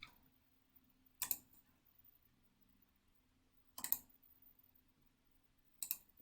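Three sharp computer mouse clicks spaced a couple of seconds apart, each a crisp close tick over near-silence, while copying a Google Docs file.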